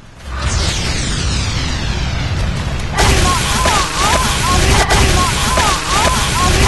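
A sniper rifle fires, and a loud, sharp boom cracks out and rolls away, with another sharp report soon after, over a continuous noisy background and some talking.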